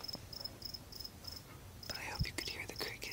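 Crickets chirping in short regular pulses at night, a steady rhythm that grows busier and more layered toward the end, with a soft whisper-like voice and rustle partway through.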